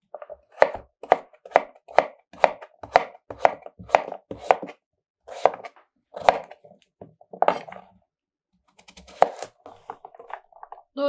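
A knife chops through zucchini on a board in quick, steady strokes, then slows to a few scattered cuts, close and crisp with no talking.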